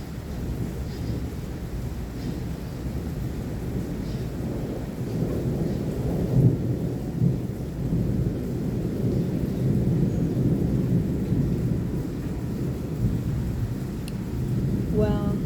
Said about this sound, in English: the rain's calming down a little